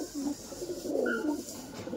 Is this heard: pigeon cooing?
yes